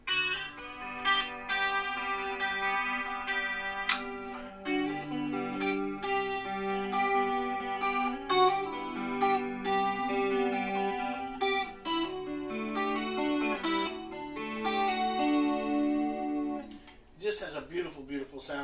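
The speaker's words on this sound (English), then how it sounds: "But the chorus in this has always been really, really nice, and I've always enjoyed it" Electric guitar played through the chorus effect of a Marshall MG 100 HFX head, shimmering sustained notes and picked phrases ringing continuously at moderate volume, ending in a brief noisy scrape.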